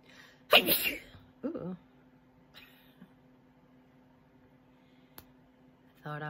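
A loud, sharp sneeze, followed by a smaller second burst, then a quiet room with a low steady hum and a few faint clicks.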